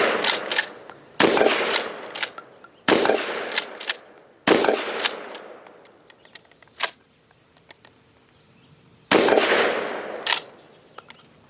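A GForce GF12 pump-action shotgun fires four loud, sharp shots spaced over several seconds, each followed by decaying reverberation, with faint mechanical clicks of the pump action in between.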